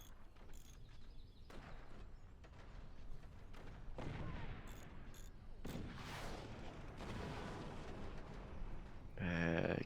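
Cannon booms and gunfire in a video game battle, scattered heavy blasts and sharp cracks over a continuous mechanical rumble, fairly loud and dense.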